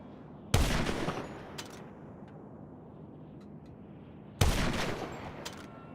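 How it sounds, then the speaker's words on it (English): Two sharp gunshot bursts in GTA Online on PS5 as a pedestrian is shot, each a loud close crack with a short echoing tail, separated by a few seconds of quiet ambient game noise. "Imagine I shoot this poor pedestrian."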